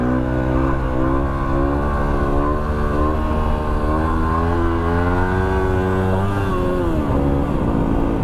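A car pulling away after refuelling on an outback road toward Alice Springs, its engine droning loudly and steadily with rising and falling pitch as it accelerates, heard close from inside, with no talking.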